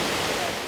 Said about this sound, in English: Indian Ladder Falls is a glacially formed waterfall of 3 tiers, collectively about 55 feet high